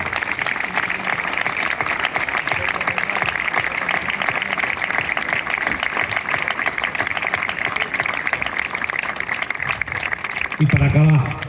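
Sustained applause from an audience at a Catalan civic ceremony honouring a town mayor, a dense steady wash of clapping throughout, with a brief louder burst near the end.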